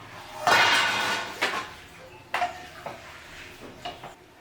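Handi chicken being stirred in a pot, a few scraping and clinking strokes of a spoon against metal spaced irregularly, close and moderately loud with brief pauses between.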